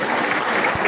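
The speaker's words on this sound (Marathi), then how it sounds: "टाळ्या वाजवा." Audience applause at a felicitation event in honour of a guest, dense clapping from a crowd, loud and continuous throughout.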